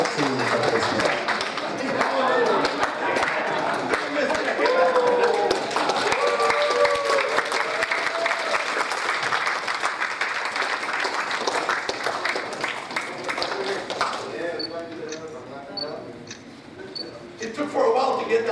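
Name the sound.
audience applause at a lecture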